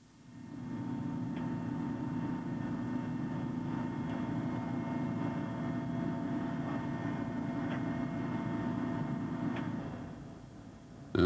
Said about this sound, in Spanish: La Fuerza Antinarcóticos de Pakistán patrulla en un helicóptero de fabricación rusa pagado por los británicos.